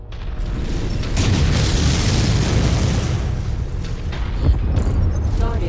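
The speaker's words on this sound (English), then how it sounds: "That explosion came from the power plant." Loud, sustained explosion at a power plant in the video game MechWarrior 5: Mercenaries, a broad rumbling blast that swells and rolls on for several seconds with crackling debris and a sharper burst near the end.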